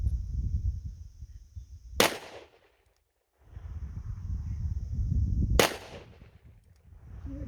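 Two sharp, loud shots from a Smith & Wesson Model 27 revolver, spaced a few seconds apart, each cracking over steady outdoor background noise and fading with a brief echo.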